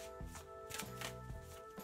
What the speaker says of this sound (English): The only way that I've shuffled for the last 15 years is exactly like this.